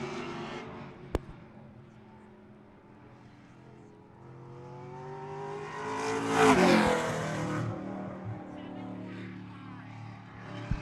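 A Chevrolet pro stock race car lapping Seekonk Speedway, its engine drone building steadily to a loud pass around the six-second mark and then fading slightly, with an announcer talking over it throughout.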